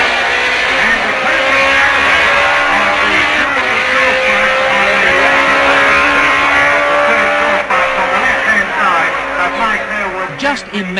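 A road-racing MV motorcycle on a course with a corner, loud and sustained as the engine runs up through the gears, with a commentator talking over it throughout.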